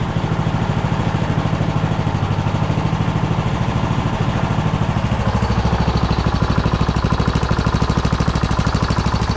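A repaired Kohler Courage small engine, previously cracked, idles steadily nearby with a loud, even, rapid chugging pulse that holds unchanged for several seconds, with no talking.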